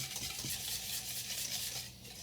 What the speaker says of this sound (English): we're going to whisk this together. Just to get everything to blend together.